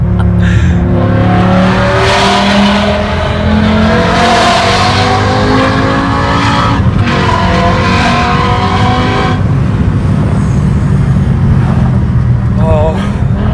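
A 2006 BMW M5 with a V10 engine revving up and falling back, loud and close, with rising and falling engine tones and people talking over it.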